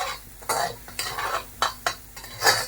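Fish pieces coated in black masala for a Maharashtrian fish curry are stirred in a hot pan, about six quick scraping strokes with soft sizzling in between, close and alone.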